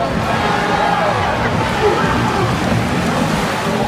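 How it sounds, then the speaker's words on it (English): Steady rain pours at a Cancun all-inclusive resort, a dense even hiss with some faint voices and tonal sounds mixed underneath. "It's still raining"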